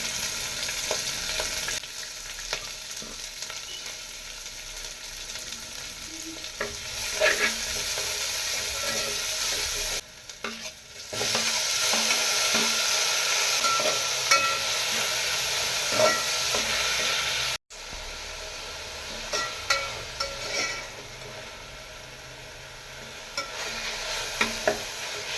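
Ginger garlic paste and curry leaves fry in hot oil with a steady hiss and sizzle, stirred now and then with scraping clinks, the frying surging loud after a brief break.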